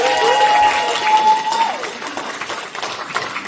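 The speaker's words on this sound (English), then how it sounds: "give a big round of applause for Joe Martin." An audience at a Comic Con 2024 Doctor Who panel applauds Jo Martin, sustained clapping mixed with cheers and a whistle at first, then thinning out gradually.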